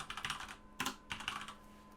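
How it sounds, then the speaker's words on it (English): Quick bursts of keystrokes rattle on a computer keyboard, close and quiet, in two or three short flurries with brief pauses between them. "Bear with me at one moment while I type things real fast"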